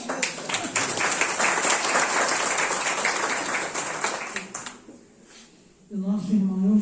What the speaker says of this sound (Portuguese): É aplaudido.